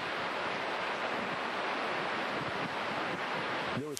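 Hurricane storm surge and wind, a dense, continuous roar of crashing waves and gusting wind buffeting the microphone, loud and unbroken throughout, ending with a brief low tonal sound.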